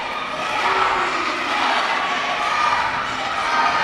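Wrestling crowd at an AMW Showdown event cheering as a wrestler rallies them, a broad steady roar of many voices filling the arena throughout, fairly loud and continuous.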